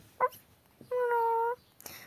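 A dog whimpers nearby: a short yelp, then a single drawn-out high whine lasting over half a second, set against a quiet room.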